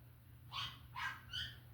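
A puppy left in its cage gives three short, high yelping barks, evenly spaced and fairly faint, with a low steady hum in the background.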